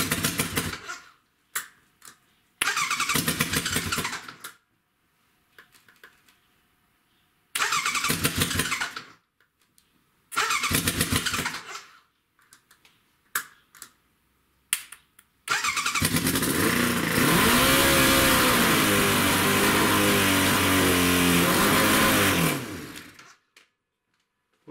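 A 1100 motorcycle engine started on choke: several short cranking bursts and stuttering attempts, then the engine catches and revs high, a loud sustained roar that holds for about eight seconds before cutting off.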